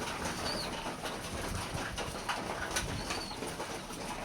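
Soft cooing of pigeons over a low outdoor hum, with a couple of faint chirps and light rustling nearby.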